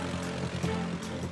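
A WWII Soviet La-5 fighter plane with an M-82 radial engine drones steadily through its propeller, moderately loud with slight fluctuations.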